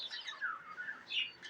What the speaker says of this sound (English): they're galahs, Buddy's galahs, if you don't know. And Frankie's are cockatoos